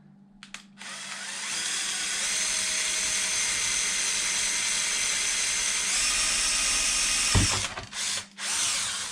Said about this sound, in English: so I can drill through it.